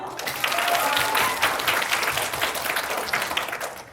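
An audience at a winter camp concert and presentation bursts into applause, a dense wash of clapping that holds steadily for a few seconds before easing off.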